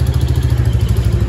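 A new 2023 Royal Enfield Bullet motorcycle idles close by, its engine beating out a steady, rapid, even thump that stays loud throughout with no voices.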